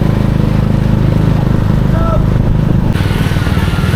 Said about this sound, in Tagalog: yung mga motor mukhang titirik na